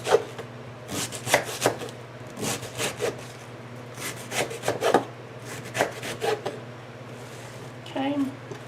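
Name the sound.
knife cutting long noodles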